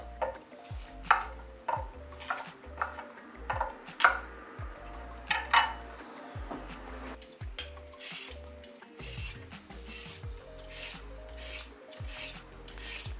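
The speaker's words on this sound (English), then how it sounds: "I'm going to cut and peel the carrots" Carrots being peeled and cut with a knife for kimchi: a steady run of scraping rasps and knocks on a board, close and fairly quiet, shifting to a faster rhythm of short strokes in the second half.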